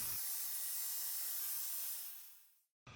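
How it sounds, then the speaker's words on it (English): A power tool cuts through pine wood pieces for a wooden model airplane fuselage, a steady high-pitched buzzing rasp that fades away toward the end, then stops abruptly. "Now from the pine wood pieces, I will cut the top and bottom of fuselage."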